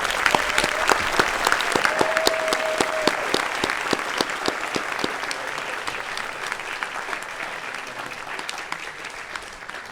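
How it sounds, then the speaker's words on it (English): Loud, dense applause from the audience at a spring Eagle Scout Court of Honor, sustained hand-clapping that carries on steadily before thinning slightly toward the end, with no voices over it. "Let's give him one more round of applause."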